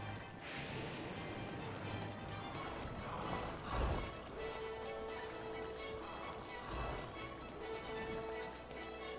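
In Zelda Breath of the Wild, a horse's hooves clop continuously under steady rain-like noise, with a single louder thump near the middle, faint and at an even level throughout.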